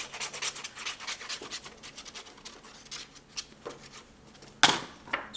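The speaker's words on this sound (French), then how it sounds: "Allez, je vais couper un petit peu comme ceci" Paper being cut with scissors at the corners of a scrapbook folio: a quick run of crisp snipping and scratchy rubbing strokes, close and moderately quiet, ending in one sharper louder snip.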